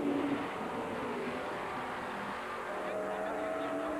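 An IMSA GTP prototype race car roars down the start-finish straight at Sebring during the 1990 12-hour endurance race, its engine note loud and continuous, blending with other traffic for the full few seconds.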